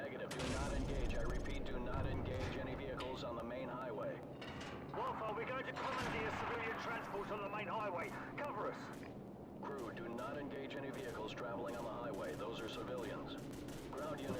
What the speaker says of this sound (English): I think I can shoot down the tower.